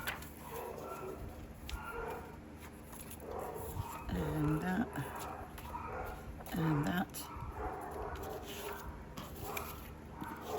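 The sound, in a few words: dogs barking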